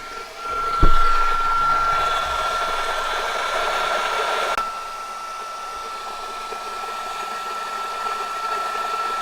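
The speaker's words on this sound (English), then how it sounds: "Now the trick is to get the heat gun in there. Cordless heat gun, best invention ever." A cordless heat gun blows a steady, close airy whoosh while shrinking heat shrink tubing, with a thump near the start and a slight drop in level partway through.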